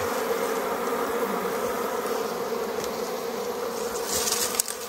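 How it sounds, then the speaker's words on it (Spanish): A honeybee colony buzzing inside a hive in a cave, a dense, steady drone of many bees close by, continuous and unbroken with no talking over it. "Pueden escuchar el ruido de las abejas, la colmena."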